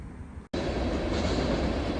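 A train rumbles past close by, a steady broad roar of wheels on rails that continues without a break.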